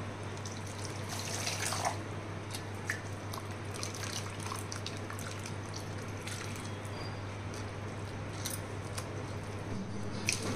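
Small freshwater fish and tamarind leaves are washed by hand in a bowl of water, with soft continuous splashing, sloshing and dripping, faint and steady throughout, with no voices.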